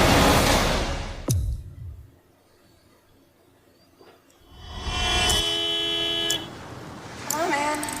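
Car horn honks in a road rage thriller trailer, with two sustained blasts and a later shorter one mixed into dramatic sound effects, while voices talk over part of it.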